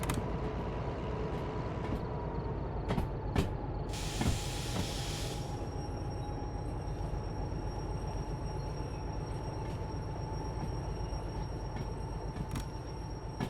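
A locomotive in the train simulator game Derail Valley runs fast with a steady rumbling drone and a constant hiss, joined by a brief louder hissing burst and a few sharp clicks, with no talk.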